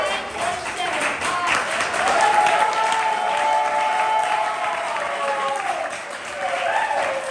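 A poetry slam crowd applauds steadily and fairly loudly throughout, a continuous wash of clapping with some cheering mixed in.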